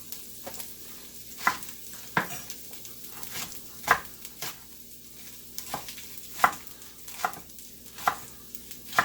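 Garlic and green onions sizzle in olive oil in a hot pan, a steady, close fry broken by regular sharp clicks of a utensil stirring and scraping.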